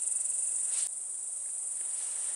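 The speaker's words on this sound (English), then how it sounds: "A cicada." Cicada buzzing outdoors in the Golden Trout Wilderness, a steady high insect drone that holds unbroken through the whole stretch with no talk.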